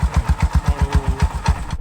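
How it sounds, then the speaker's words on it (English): A stationary tuk-tuk engine at idle during carburettor adjustment, a loud, close, even chugging beat of rapid regular pulses that fades slightly at the end. "Now you can hear this tuk-tuk,"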